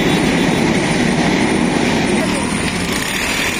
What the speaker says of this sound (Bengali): একটা ট্রেন আসবো, যার কারণে অনেকগুলো গাড়ি সিরিয়ালে দাঁড়িয়ে রয়েছে